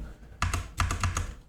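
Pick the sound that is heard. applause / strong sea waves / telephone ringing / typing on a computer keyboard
typing on a computer keyboard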